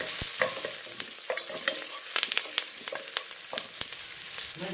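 Curry leaves fry in hot oil in a pan for kaima biryani, a steady broadband sizzle under repeated sharp clicks and scrapes of a spoon stirring, close and moderately loud with no talk.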